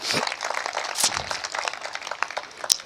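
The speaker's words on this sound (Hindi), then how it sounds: "सरदार जी के सम्मान में एक बार ये सदन जोरदार तालियां बजाए" Scattered clapping from an audience at a poetry gathering, a dense patter of hands that stays moderate and uneven throughout.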